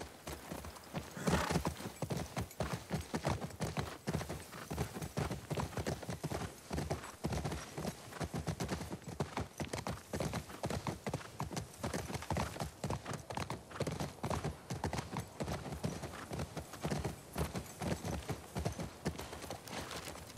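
Steady clip-clop of horse hooves trotting in The Last of Us Part II, a continuous rhythmic beat throughout, with a brief whinny near the start; no talking.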